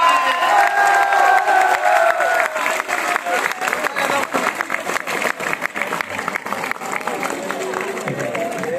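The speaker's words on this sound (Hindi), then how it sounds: "इन तालियों की आदत डाल लो भाई" Students at a Teachers' Day event in Gwalior clap and cheer loudly, a dense wash of crowd applause with whoops and shouts, while a voice talks over the noise near the start.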